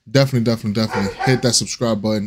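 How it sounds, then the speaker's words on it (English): A pet dog barks in repeated short yips close by while someone talks over it, the barks blending with his voice throughout. "sorry for my dog"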